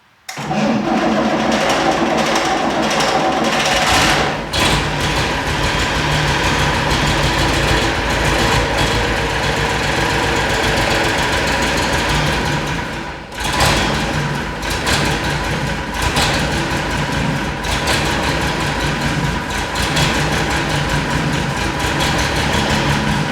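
A Unimog 416 diesel engine with a fuel priming problem starts and runs loudly and roughly, cuts out briefly midway, then fires again and keeps running as a steady, rumbling clatter with no talking.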